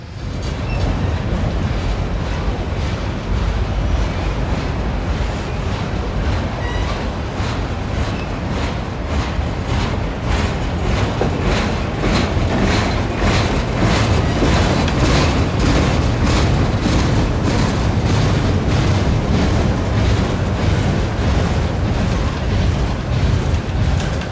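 A clanking freight train with mid-train DPU locomotives rolls past close by on a mountain line, a loud, continuous roar of wheels and rattling cars with rhythmic clatter building through the pass.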